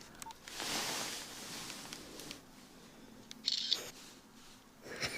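A phone camera snapping a photo gives a few brief clicks and a short electronic shutter chirp, close and fairly quiet amid soft rustling, with no talking.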